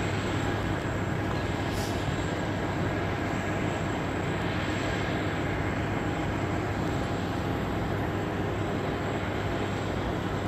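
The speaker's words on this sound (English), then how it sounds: "Steep approach on the C-130, built tough to withstand uneven runways and gravel strips and short strips." A C-130 turboprop transport aircraft on a steep approach at Ted Stevens International Airport in Anchorage produces a steady, broadband droning roar that stays loud and unbroken throughout.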